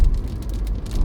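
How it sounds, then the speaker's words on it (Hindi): Rain drumming on a moving car on an expressway near Lucknow, a steady pattering hiss over a low road rumble, short and unbroken with no talking. "यहाँ पे बारिश शुरू हो चुकी है"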